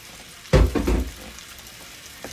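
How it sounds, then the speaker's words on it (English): A sudden burst of sizzling as potatoes hit a hot pan, loud for about half a second, then fading to a quieter crackle. "So we're going to throw our potatoes in there and get them frying"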